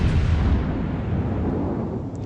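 A broadside from the battleship North Carolina's main guns in World of Warships, a deep, heavy boom with a long rumbling roar that slowly fades.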